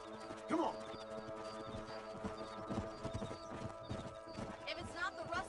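Horse hooves clip-clop in a steady galloping rhythm in the Red Dead Redemption video game, with a whinny near the start, under a constant musical hum and game ambience, while a voice talks over it.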